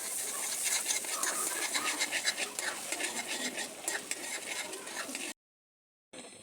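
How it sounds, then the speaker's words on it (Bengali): Butter melts in a wok for laccha semai chomchom, giving a soft, busy sizzle with light scraping of a utensil. Then comes a short silent gap before the sound briefly resumes. "প্রথমে আমি একটি কড়াইতে 1 টেবিল চামচ বাটার গলিয়ে নিব।"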